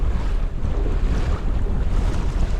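Waves washing around a small sailing canoe in strong wind, a loud continuous rush of water and wind buffeting close to the microphone.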